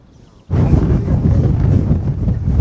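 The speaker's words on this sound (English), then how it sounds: "bit windy up here." Strong wind buffets the microphone on a hilltop near a castle above Nafpaktos, starting abruptly and then roaring steadily and loud as a broadband rumble with no voice heard.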